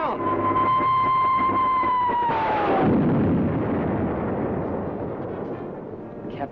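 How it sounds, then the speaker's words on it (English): A rocket explodes in midair as a rising whistling tone is cut off by a deep, rumbling blast that rolls on and slowly fades, in a 1951 Captain Video science-fiction serial soundtrack. "Captain Video exploded that rocket in midair."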